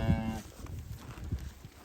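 A mother cow moos repeatedly beside her newborn calf in a farm field, the low calls loud and close, with faint outdoor background.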